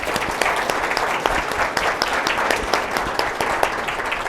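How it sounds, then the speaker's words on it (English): An audience at a financial forum breaks into sustained applause, a dense, loud, even wash of many hands clapping throughout. "let's actually give them the round of applause"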